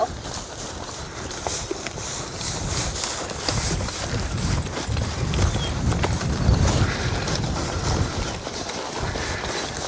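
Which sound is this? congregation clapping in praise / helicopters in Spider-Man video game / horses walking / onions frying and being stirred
horses walking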